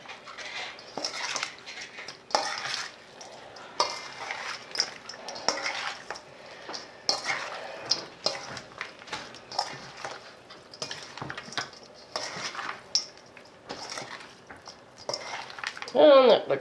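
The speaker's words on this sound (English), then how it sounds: "And I'm going to stir this with my hands" Trout pieces stirred by hand in a bowl for home canning: wet squelching and soft knocks against the container come in irregular bursts, close and moderately loud, with a brief sharper clatter at the end.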